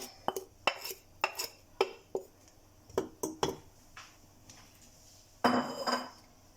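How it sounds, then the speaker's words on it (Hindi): About 1.5 kg of carrots tipped into a pressure cooker for carrot halwa, a run of sharp knocks and clatters against metal, some clustered and some spaced, ending in a louder scraping rattle, with no talk. "तो ये हम अब कुकर में डाल रहे हैं।"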